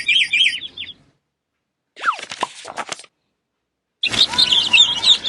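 Chicks chirp as a sound effect in a read-aloud picture book, three separate bursts of high, rapid peeps and tweets separated by silences, close and fairly loud, with no talking over them.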